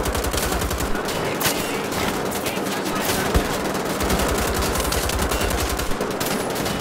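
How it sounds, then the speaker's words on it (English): Rapid, continuous machine-gun fire from the video game Wolfenstein: The Old Blood, loud and dense throughout with no breaks, an unbroken rattle of shots. "I'm just getting shot everywhere."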